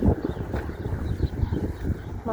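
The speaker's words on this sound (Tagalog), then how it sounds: "Mahangin dito." Gusty outdoor wind in Canada buffets the microphone with continuous low rumbling and uneven surges, loud and close throughout.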